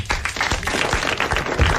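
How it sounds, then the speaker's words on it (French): A French television studio audience applauds for a game prize winner, giving a short, steady burst of close, dense clapping. "vous l'applaudissez."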